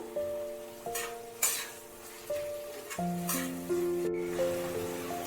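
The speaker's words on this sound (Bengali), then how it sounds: "কাজু দিয়ে এটাকে নাড়লাম" Chicken bhorta with cashews is stirred in a pan, giving soft scraping and light clinks of a utensil against metal, while a quiet tonal melody plays in the background.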